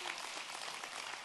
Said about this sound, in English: can we give Scotty a round of applause?